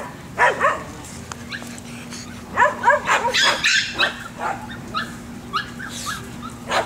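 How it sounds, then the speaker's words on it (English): Two dogs at home yip, whimper and bark in short irregular bursts at moderate distance, with quiet gaps between them and a faint steady hum underneath. "You silly doggies."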